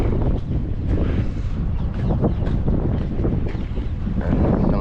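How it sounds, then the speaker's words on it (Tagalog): Strong wind buffeting the microphone outdoors while fishing, a constant loud roaring rumble with gusty swells throughout. "Ang lakas kasi ng hangin eh"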